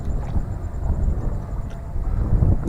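Wind gusts across a microphone outdoors during a fishing trip, producing a continuous low buffeting rumble with uneven surges and no talking.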